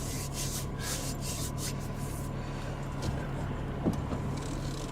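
Interior road noise from a car on bumpy little roads: a steady low rumble with rattles and rubbing creaks, plus a couple of brief knocks near the end. No talking.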